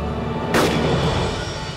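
A single booming rifle shot in the DayZ mod video game, one sharp blast rising over steady background noise.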